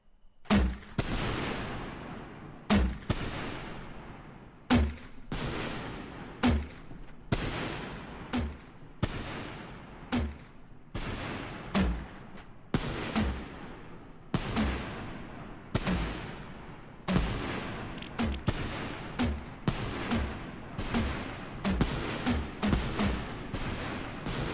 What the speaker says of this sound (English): This is the Red, White, and Boom 21 shot mortar.